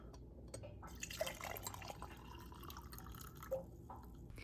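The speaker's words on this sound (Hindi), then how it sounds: "अभी इसके अंदर वो जो हमने चाय बना के रखी है ग्रीन टी वो इसके अंदर डालेंगे" Brewed green tea poured into a cup that already holds lemon juice, a soft, close trickle with faint dripping and splashing, fairly quiet and without talk.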